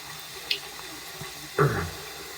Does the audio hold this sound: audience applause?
no